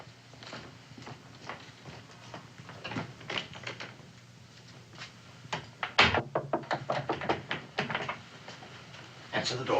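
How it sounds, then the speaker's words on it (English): Knocking on a door in a frontier-era household, with irregular sharp raps and clusters of knocks scattered over several seconds, loudest near the middle, among other bumps and faint voices. "Answer the door, Sally."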